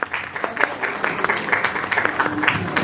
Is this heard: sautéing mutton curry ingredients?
no